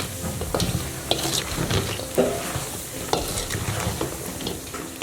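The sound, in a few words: mixing Guyanese mithai coated in sugar syrup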